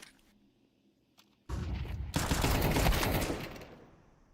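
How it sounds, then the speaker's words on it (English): A flashbang grenade goes off in a competitive Counter-Strike esports match at CCT Season 3 Europe, a sudden loud burst of broadband noise that rings out for about two seconds before fading, preceded by a few faint clicks. "Great flashbang there."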